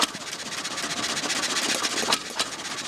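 A small 1.5 horsepower motor with a simple carburetor runs steadily, giving a close, rapid pulsing chug with a couple of sharper clicks near the end.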